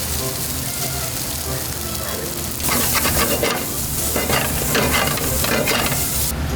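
Loud, steady sizzling of white wine in a hot pan that surges louder partway through, with a constant crackling hiss and occasional stirring.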